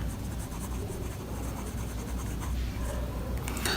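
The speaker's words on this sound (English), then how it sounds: "So I have primed the nib, so that's why the ink flow is very good." A Pierre Cardin President fountain pen with a primed nib writing on paper, a close, continuous soft scratching and scraping of the nib across the sheet with no voices.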